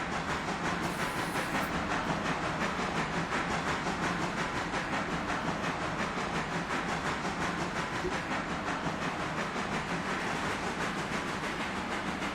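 A train wagon rolls along rails in the RailRoader video game, a steady hissing rumble with faint rhythmic clacking that keeps an even level throughout, with no voices.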